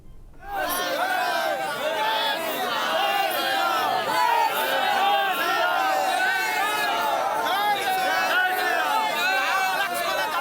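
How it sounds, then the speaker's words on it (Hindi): A dense crowd of devotees at the Ram temple in Ayodhya fills the air with loud, continuous shouting and chanting voices that swell in after a brief silent start and stay close. "रामलला के दर्शन के लिए उमड़ी भीड़।"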